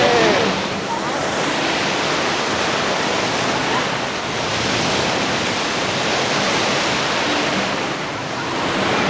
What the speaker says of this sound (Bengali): ঢেউ, দেখো ঢেউ